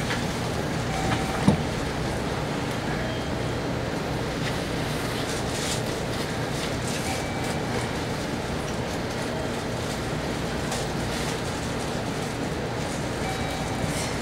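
A JR 813 series local train on the Nippo Main Line rolls along steadily with a constant low rumble and faint rattling, a single clunk early on, and no voices.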